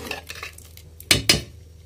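Metal spoon clinks twice against a cooking pot as spices go into simmering dalma, an Odisha dal cooked with mixed vegetables, after some soft rustling, close and brief.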